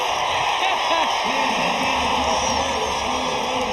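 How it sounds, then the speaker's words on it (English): Basketball crowd roaring on its feet at an Unrivaled game, a dense, continuous cheer with whoops and yells, a commentator talking excitedly over it. "The crowd's on their feet."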